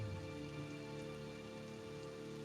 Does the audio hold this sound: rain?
yes